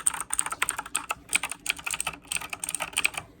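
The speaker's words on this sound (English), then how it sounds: "I got the On mechanical LED keyboard for gaming. I'm going to show you guys everything it does. So it uses blue switches," Typing on an Onn mechanical LED gaming keyboard with blue switches: rapid, crisp clicky keystrokes in uneven bursts with short pauses, close and distinct, and no one speaking.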